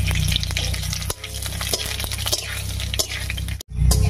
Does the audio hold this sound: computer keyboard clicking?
no